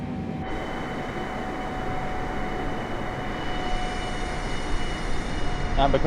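Boeing 747-8i jet engines held at full throttle in Microsoft Flight Simulator 2020, a steady, dense roar with a faint high whine, constant throughout and swelling slightly near the end, with no voices.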